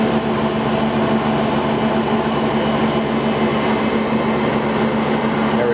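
A generator running on a test bench during a mechanical voltage regulator adjustment, heard as a loud, steady, unbroken hum and whine with no talk.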